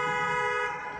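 A single short car horn honk, one steady blast about a second long.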